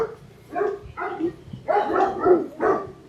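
Rottweilers and other dogs bark in a quick burst of five or six loud, close barks, some overlapping, with no talking.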